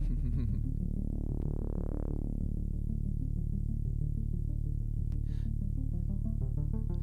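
Synthesizer piece recorded on all-Behringer instruments: a deep sustained drone with a rising and falling sweep, then a sparse bubbling sequenced pattern, moderately loud and steady with no voices.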